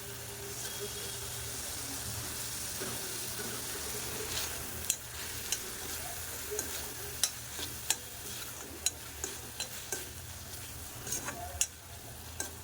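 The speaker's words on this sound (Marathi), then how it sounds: "तर टॅमॅटो घालून घेऊया." Tomatoes fry in hot oil for a Maharashtrian drumstick curry, a continuous close sizzle broken by repeated sharp clinks of a spoon stirring against the pan, and no one speaks.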